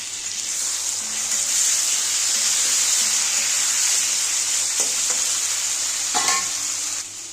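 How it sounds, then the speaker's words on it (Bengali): Potatoes and chopped tomato fry loudly in a pan with a steady close sizzle, broken by a few scraping stirs near the end, and no voices. "ভালো করে ভেজে নিচ্ছি।"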